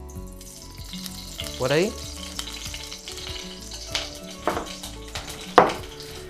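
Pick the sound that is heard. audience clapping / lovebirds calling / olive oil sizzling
olive oil sizzling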